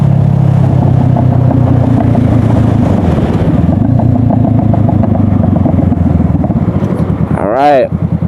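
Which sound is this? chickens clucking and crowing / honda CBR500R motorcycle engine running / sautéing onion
honda CBR500R motorcycle engine running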